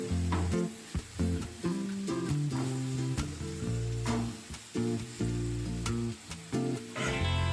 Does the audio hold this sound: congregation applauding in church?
no